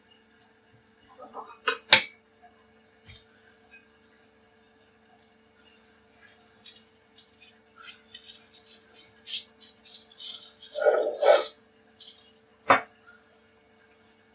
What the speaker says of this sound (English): I'll slice one so you can see the inside.